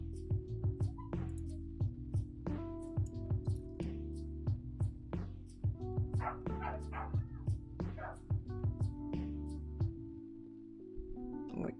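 A neighbours' dog barks in a fast, repeated series of yips and bow-wows close by, over a steady droning background hum.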